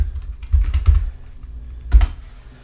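Computer keyboard typing while building a Roblox Studio game, a quick burst of close, thumpy keystrokes followed by a pause and a final couple of key presses, with no speech.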